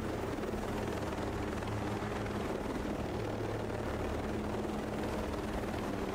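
Helicopter in Ghost Recon Breakpoint, a steady dense rotor and engine roar that holds evenly throughout, fairly loud and close, with no talk.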